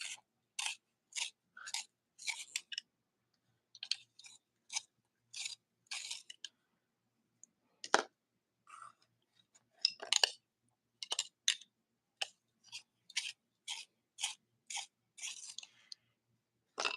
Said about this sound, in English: I am just going to sharpen up my pencils first